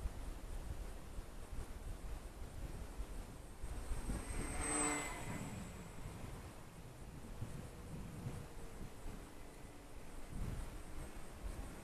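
A Volantex P51D Mustang RC warbird with a 750mm wingspan flies overhead, its faint electric motor whine swelling briefly as it passes, then fading under steady outdoor wind noise.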